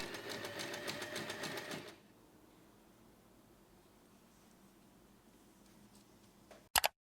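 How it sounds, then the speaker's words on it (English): A sewing machine stitches a snap-button wallet keychain, sewing a piece onto the main fabric in a close, steady mechanical whir for about two seconds, then stops; faint handling noises follow and a couple of sharp clicks come near the end. "go ahead and sew it onto the front of the main fabric"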